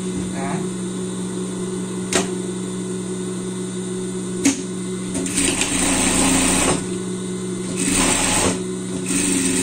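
A sewing machine hems a pair of children's shorts, its steady mechanical whir running throughout, with a few sharp clicks and surges of faster stitching. A voice speaks briefly under the noise.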